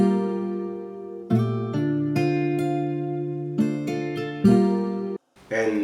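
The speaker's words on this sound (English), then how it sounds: "It's also another guitar from Lupoman." A dry, effectless Lupoman guitar melody in an FL Studio Afrobeat beat, sustained plucked chords shifting every second or so, with a brief gap near the end before a new phrase; close and steady, no talk.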